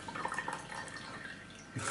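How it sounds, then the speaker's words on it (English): Pineapple juice pours from a container into a glass, a faint continuous trickling splash that runs steadily for under two seconds in a quiet room. "that's me pouring pineapple juice into a glass"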